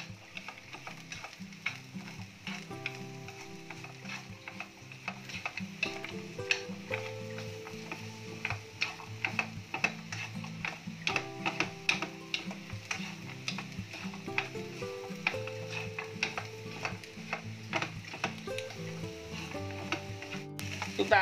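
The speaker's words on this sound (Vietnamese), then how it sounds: "Chúng ta xào sơ phần bầu này." Bottle gourd stir-frying in oil in a pan gives a steady sizzle with frequent ticking scrapes and clatters of the utensil, continuous and close throughout with no talk.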